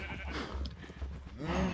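Sheep in the video game Minecraft bleat twice, short wavering calls, the second louder near the end, over faint background noise.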